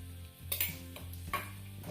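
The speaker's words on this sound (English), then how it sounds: "Give it a mix up." Onions and sugar caramelising in a pan, stirred with a spoon: two or three distinct scraping strokes over a low background sizzle, close and fairly quiet, with no talking.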